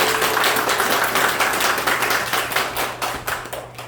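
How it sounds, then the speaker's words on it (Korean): A church congregation at a Sunday worship service claps in encouragement, a dense, steady patter of many hands filling the room for several seconds with a low hum underneath, then thinning slightly toward the end. "수고하시는 우리 전사님하고 또 우리 부장 선생님 그리고 우리 선생님들에게 힘찬 격려의 박수."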